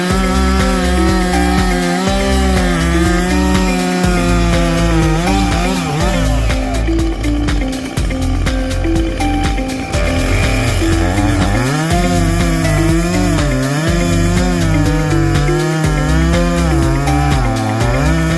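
Chainsaw cutting sideways through the trunk of a large walnut tree during felling, a loud, steady whine with shifting pitch as the bar bogs and revs under the weight of the trunk, running continuously throughout.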